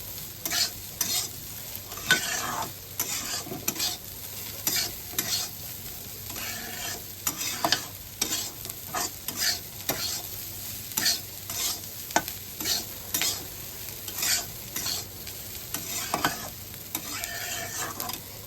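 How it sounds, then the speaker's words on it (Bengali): Rice being stirred and fried in a pan with red chilli powder, with repeated scraping strokes of a spoon over a steady sizzle, close and fairly loud, no talking throughout. "এবার এটাকে আবার সুন্দর করে মিক্স করে নিচ্ছে।"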